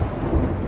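A deep, loud rumble of thunder from a lightning strike in Sea of Thieves, a short burst of low boom with rain noise and no talking.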